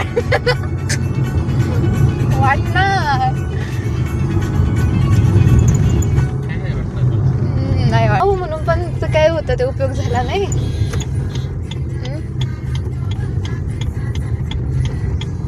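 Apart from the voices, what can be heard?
car being driven on road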